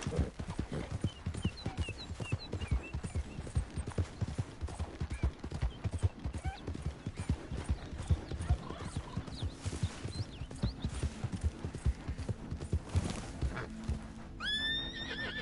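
Horse galloping in the video game Red Dead Redemption 2, a rapid continuous clip-clop of hooves close up, with faint tack jingle and a brief whinny near the end.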